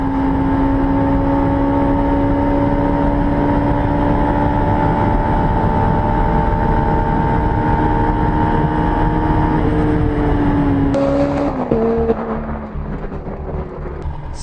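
Jaguar C-X75 hybrid supercar screaming flat out down a track straight near 198 mph, a loud sustained engine whine holding steady for about eleven seconds before lifting off and shifting down as it slows.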